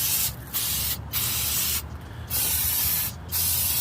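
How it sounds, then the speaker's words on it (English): Brake parts cleaner sprayed onto the brakes of a 1998 Toyota Prado in four loud, close hissing bursts separated by short pauses. "just use some carb cleaner or some brake parts cleaner"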